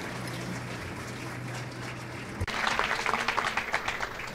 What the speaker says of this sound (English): Let's have a strong round of applause for the panel.